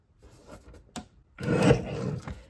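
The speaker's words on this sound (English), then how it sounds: "I'm going to cut them, I'm going to stack them neatly and trim at the same time." A stack of paper strips for a meadow card kit is trimmed on a paper cutter, with a few soft scraping rubs followed by a louder, longer rasping slide, close and alone.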